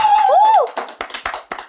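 At an Indonesian talk show, a studio audience gives a thin, scattered round of hand claps, a handful of separate sharp slaps following a brief spoken phrase.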